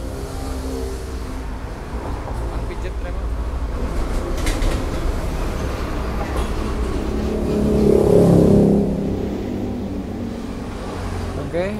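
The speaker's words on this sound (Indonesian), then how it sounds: "motor udah hidup, aman, nggak ngebul juga" A Yamaha Lexi scooter engine, freshly rebuilt, runs at night with a steady loud idle and a brief rev swell partway through, close to the microphone.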